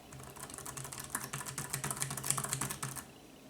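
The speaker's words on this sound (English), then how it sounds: "let me show you what it's like typing on here." Fingers type rapidly on a Lenovo ThinkPad Compact USB Keyboard, model KU-1255, giving a dense run of light, close keystroke clicks. The rhythm is quick and irregular for about three seconds before stopping, with no talking.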